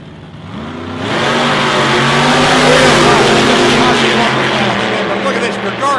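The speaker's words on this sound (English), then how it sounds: "Running a small block Chevrolet in the Altered and a 427 cubic inch Ford engine in the front engine dragster" Drag racing cars with a small block Chevrolet in an Altered and a 427 cubic inch Ford in a front engine dragster roar loudly and continuously after a quieter start, engines revving hard under a track announcer's voice.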